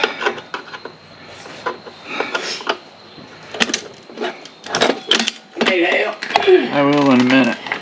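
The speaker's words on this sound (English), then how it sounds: "Okay, removing these two bolts." Bolts come off a motorcycle's lower fairing with a ratcheting wrench, giving irregular clicks, metallic taps and clunks close by, with a person talking briefly near the end.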